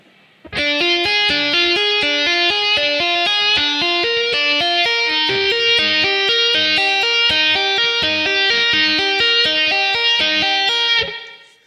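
Rapid tapped electric guitar notes ripple in an even, fast stream of repeating figures, distorted and loud, stopping abruptly near the end.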